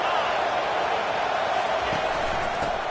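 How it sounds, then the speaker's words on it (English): A stadium crowd in the video game College Football 25 gives off a dense, steady roar, loud and continuous without clear peaks. "This crowd bringing the energy and noise early."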